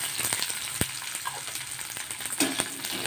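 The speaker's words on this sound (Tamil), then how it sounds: "இந்த பச்சை மிளகாயெல்லாம் இந்த எண்ணெயிலேயே நல்லா வேகட்டும்" Green chillies fry in hot oil with a steady, close crackling sizzle, punctuated by a few sharper pops and occasional stirring, with no one speaking.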